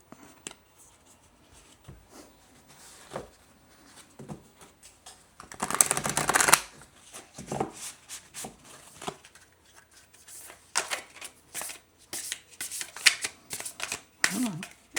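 A deck of oracle cards being shuffled by hand: soft riffling and tapping, with one louder, longer shuffle burst midway and more quick flicks near the end, while a person speaks quietly.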